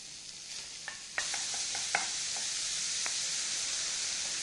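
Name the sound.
ground beef browning in butter in a hot pan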